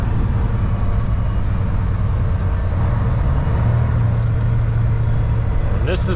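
Truck with a 14-liter Detroit engine driving, a steady loud low rumble of the diesel droning continuously with a brief higher whine near the end.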